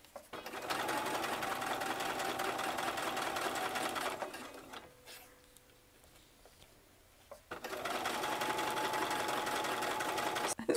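A sewing machine stitches a simple zip bag in two steady whirring runs close by, pausing briefly in the middle before starting again.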